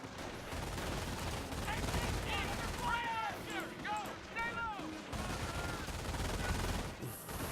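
Machine gun fire and battle noise from the video game Company of Heroes, a dense continuous rattle of gunfire under shouted radio-style voice lines, with bursts and whistling tones mixed through the din.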